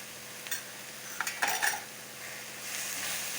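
Turmeric powder frying in a pan, soft sizzle under a few sharp metallic clinks and scrapes of a spoon stirring, quiet and close.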